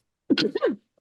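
A single short, abrupt sneeze-like burst, close and fairly loud, followed by silence.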